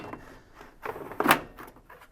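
Plastic soap dispenser drawer on a Whirlpool washing machine pushed back into its housing, giving soft scraping slides and one sharper click as it seats, quiet and close with no talk.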